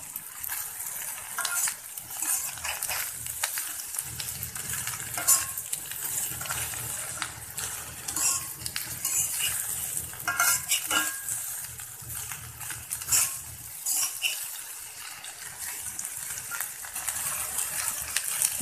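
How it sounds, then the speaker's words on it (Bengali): Cut okra frying in a pan while being turned and stirred, a steady bright sizzle running throughout with soft scraping strokes of the spatula at irregular intervals. "ঢেঁড়সটাকে আমি ভালো করে উল্টিয়ে পাল্টিয়ে ভেজে নিচ্ছি 2 মিনিটের মতো।"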